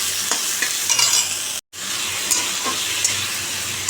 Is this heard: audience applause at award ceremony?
no